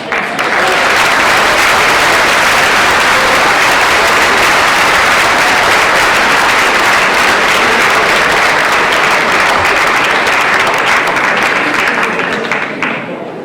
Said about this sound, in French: on peut applaudir Anthony Paté et les services